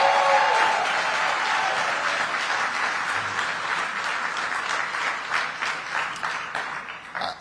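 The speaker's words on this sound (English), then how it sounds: "Give Robert Raven a great big round of applause" A crowd applauds with sustained clapping that starts full and gradually thins out, with scattered individual claps near the end.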